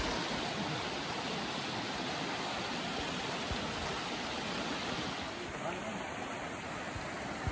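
A clean river flows through a village in Sumedang, a steady, full rush of water that holds at an even level throughout, with no voices over it.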